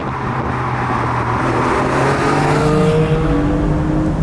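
A Porsche 718 Spyder sports car engine revs hard and climbs steadily toward 8,000 rpm, its rising harmonic whine loud and sustained throughout with constant road and wind roar beneath it.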